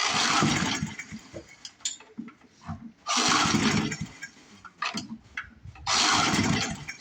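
A Murray lawn mower's small engine is cranked over and over by its starter, with three loud bursts of sputtering, churning effort separated by quieter pauses, never catching into a steady run.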